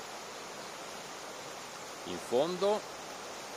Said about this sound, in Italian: come scorre quest'acqua del fiume Pioverna alla volta di Tartavalle Terme.